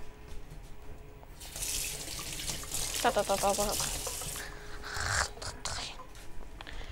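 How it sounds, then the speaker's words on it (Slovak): Tap water runs in short splashing bursts as hands are rinsed, with a person talking over the flow. "Oplachneme ruky predsa."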